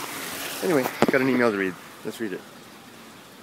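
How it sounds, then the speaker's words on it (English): A small waterfall gives a steady, low background rush of water that runs beneath someone speaking close by, and the rushing continues alone once he pauses. "it's actually this little mini waterfall"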